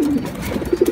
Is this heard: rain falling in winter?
no